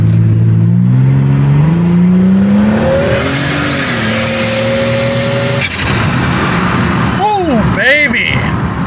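A 1999 Buick Regal GS with an upgraded 58mm turbo accelerates hard, engine note climbing loudly through the gears with a shift, then tires scratching as it pulls away, close and dominant throughout.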